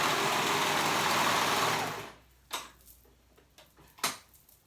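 A home sewing machine stitches fabric steadily for about two seconds, then stops, leaving a few soft clicks and knocks in near silence.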